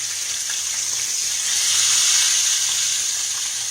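A steak fries in a pan with a loud, continuous sizzling hiss that swells briefly midway, close up and with no voices.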